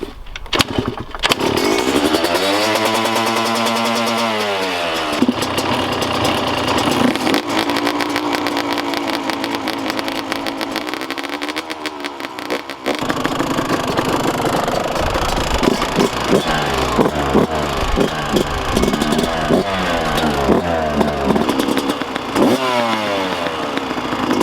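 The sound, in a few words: Yamaha YZ125 and Kawasaki KX125 two-stroke motorcycle engines running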